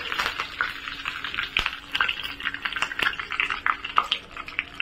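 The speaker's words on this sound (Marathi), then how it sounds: "त्याच्यामध्ये आहे ना कढीपत्ता टाकते" Curry leaves sizzle and crackle in a small amount of hot oil as a tempering for a vada pav filling, a steady near frying hiss with frequent sharp pops and spits throughout, no voices.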